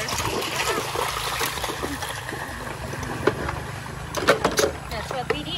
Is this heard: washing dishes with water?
yes